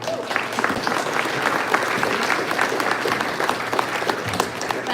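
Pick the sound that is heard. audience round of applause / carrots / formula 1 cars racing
audience round of applause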